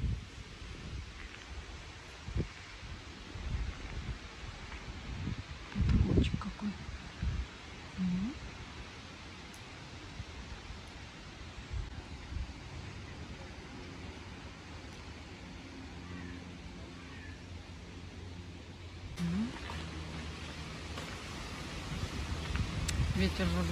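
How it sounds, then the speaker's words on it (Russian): Strong wind gusting through the trees of Sanssouci park in Potsdam, a steady broadband rush with swelling gusts and occasional rustle and knocks, under a few faint voices. "Ветер разгулялся, что-то совсем."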